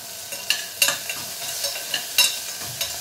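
Garlic and curry leaves crackle in a pan for a dal rasam, a soft sizzle broken by several sharp spatula taps and pops at an uneven pace.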